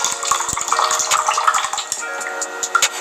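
Water pours and splashes out of a freshly opened coconut at close range, a short wet trickling with small irregular drips and gurgles, fairly quiet and with no voices.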